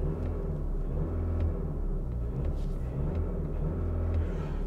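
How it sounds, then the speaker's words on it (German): A 2020 Audi A3 Sportback 30 TDI with its 116 PS diesel engine, revved while stationary at idle, gives a steady, loud low rumble that swells slightly and stays close and continuous. "jetzt geben wir mal Gas im Leerlauf"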